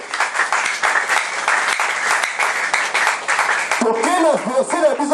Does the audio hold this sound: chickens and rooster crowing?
no